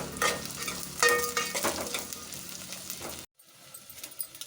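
Onion, garlic and curry leaves hit hot oil with fried fenugreek for a fish curry, crackling loudly with clinking stirs before the sound cuts out abruptly, then a fainter sizzle returns.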